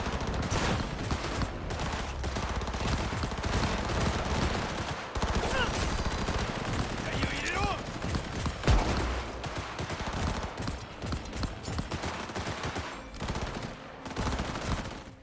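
Rapid automatic gunfire rattles almost continuously in a Cyberpunk 2077 shootout, dense bursts of shots layered with impacts and a few brief pauses.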